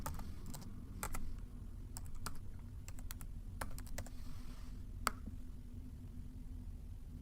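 Someone types a name on a computer keyboard in a quiet room: a few scattered, sharp key clicks in small clusters over a low background hum, then a single louder tap near the end.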